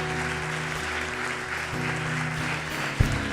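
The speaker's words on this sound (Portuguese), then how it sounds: "Dá um aplauso aí ao Senhor." A church congregation gives steady applause that fills the room over a sustained low musical drone, moderately distant, with a brief thump near the end.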